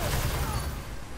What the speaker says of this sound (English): Don't you dare shoot your stupid fusion rifle at me